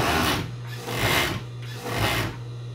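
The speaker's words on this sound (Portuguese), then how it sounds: "Então você vai passar aqui na costura." A sewing machine runs a short-stitch seam right along the edge of knit fabric for bikini-style hotpants panties, stitching in three close, steady bursts with short pauses between them and no talking.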